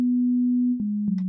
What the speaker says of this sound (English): if I switch it to a sine wave and I play somewhere around middle C